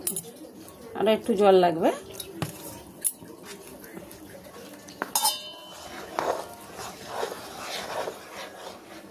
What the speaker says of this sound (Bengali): একটা চামচ দিয়ে বেসনটা গুলে নিচ্ছি।